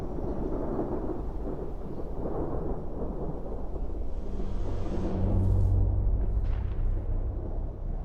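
Thunder from a gathering storm rolls in a low, continuous rumble that swells toward the end, with a faint crackle above it.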